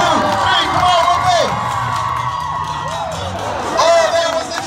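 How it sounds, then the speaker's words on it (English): Crowd at a state fair dog show cheering a dock-diving dog's jump, a loud mix of shouts, whoops and children's high yells, with an amplified announcer's voice rising and falling over it. "The crowd is going wild."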